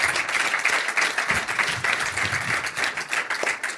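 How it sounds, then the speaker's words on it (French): Studio audience applause for a departing guest on a sailing talk show, a dense steady wash of many hands clapping at even loudness throughout, with no voices over it. "On va t'applaudir, même si tu nous entends pas"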